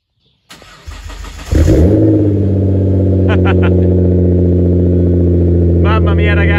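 A powerful 600 hp Nissan GT-R R35 engine with a titanium exhaust cranks and fires up by push button, then settles into a loud, steady rumbling idle with a couple of sharp revs, close by.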